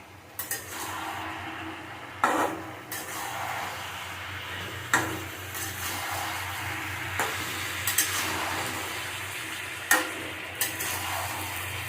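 Pumpkin and greens sizzling in a pan with spices, with a utensil stirring and scraping in intermittent strokes and a few sharp metallic clinks against the pan over a low steady hum. Nearby and moderately loud, with no talking.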